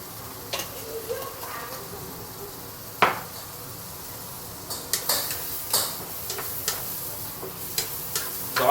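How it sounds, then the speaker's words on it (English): Sambal chili paste sautés in a pan as a soft, continuous sizzle, broken by scattered spatula scrapes and clicks against the pan that grow more frequent toward the end. "let's just keep on sauteing this for the next 3 to 5 minutes before I add in the prawn"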